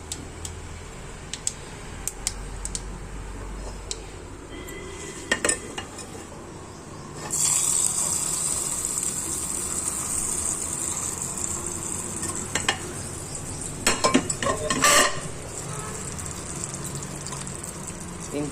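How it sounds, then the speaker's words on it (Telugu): Hot tempering poured into freshly ground chutney and stirred, a sudden loud sizzle burst midway that settles into a continuous hiss, preceded by spoon and pot clinks and followed by more stirring clatter. "ఇప్పుడు మనం ఈ చట్నీలో తాలింపు వేసేసుకుందాం."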